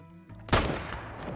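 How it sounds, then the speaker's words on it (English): One loud rifle shot, an M1, fired at a bull elk in the Call of the Wild hunting video game cracks out after quiet ambience and leaves a fading rolling echo. "He's broadside at 230 right there, and we're gonna take the shot."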